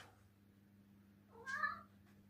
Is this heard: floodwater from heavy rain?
no